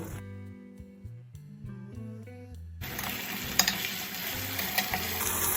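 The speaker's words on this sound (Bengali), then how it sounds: "এবার আমি গ্যাসের ফ্লেমটা হাই করে দিয়ে একটু ভেজে নেব সস দিয়ে দু মিনিটের মতো নাড়াচাড়া করে" Sauce for chilli fish fried and stirred in a pan over a high gas flame: after a quiet opening with tonal background sounds, a loud, dense sizzle begins abruptly, broken by scraping stir clicks.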